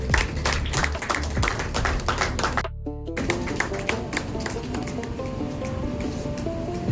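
An audience at a dance academy's stage performance claps steadily in dense rapid applause, with a brief silent break partway through before the clapping resumes and carries on to the end.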